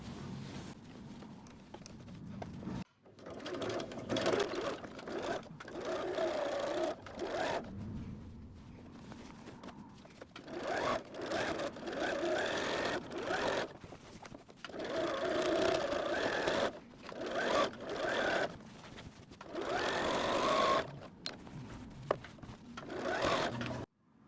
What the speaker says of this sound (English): Now we're going to sew around again, and this time we're going to go up 3/8 from that first stitch